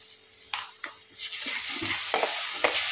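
Egg masala frying in a pan as a spoon stirs it, with a steady sizzle under scraping strokes and several sharper clinks of the spoon against the pan.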